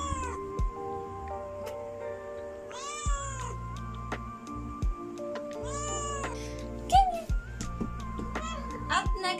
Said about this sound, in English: Her meow and Boba's meow is very different.